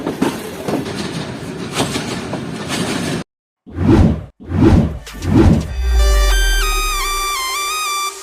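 A train rushes through Balpur railway station without stopping on the Karakoram Express route from Karachi to Lahore, loud whooshing passes and rumbling bursts close by, then a steady tonal hum that wavers in pitch.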